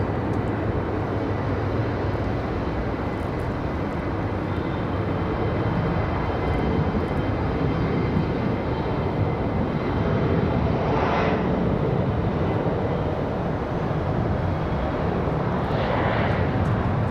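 A Republic regional jet touching down on runway 5 left at Raleigh-Durham, steady loud engine roar throughout with rising rumble, heard from the spotting position without talk.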